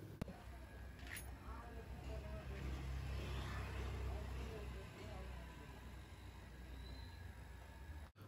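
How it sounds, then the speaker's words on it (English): An air compressor runs steadily for a pressure test of a retrofitted R134a air-conditioning system on a 1999 Maruti Zen, a continuous close hum with low-end drone throughout and no speech. "We proceed to do the pressure testing with the compressor setup."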